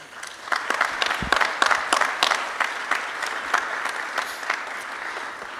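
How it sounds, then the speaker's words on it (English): An audience at a periodic paralysis conference claps loudly in a thick, sustained burst with sharp individual claps standing out, then the applause eases slightly toward the end. "I just want to give them a big round of applause"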